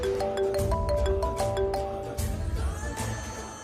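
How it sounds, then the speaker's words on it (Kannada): An incoming call rings on a mobile phone, a quick melodic pattern of bright tones repeating for a couple of seconds over dense background music, then fading. "ಮಾವ ಫೋನ್ ಮಾಡ್ತೀಯಾರ?"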